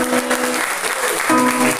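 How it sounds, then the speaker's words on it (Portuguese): Church congregation applauding during a worship service, a short burst of clapping with voices and music mixed in the background. "vamos aplaudir a Deus pela vida"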